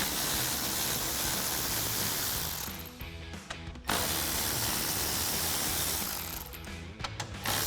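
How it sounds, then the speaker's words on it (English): A ratchet fitted with a 10mm socket removes the screws holding the top of a 2011-2016 F-250 grille, giving rapid close clicking that runs in bursts and stops for short pauses, with no talking. "we're going to remove the 4 10mm screws holding the top of the grill in place using our 10mm socket on our ratchet"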